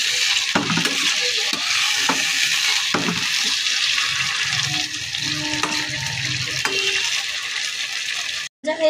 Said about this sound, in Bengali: এবার কেটে রাখা বেগুনগুলো দিয়ে দিচ্ছি,